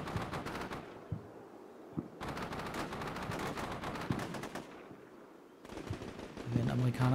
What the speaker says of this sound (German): Der Bradley schießt auf Leute.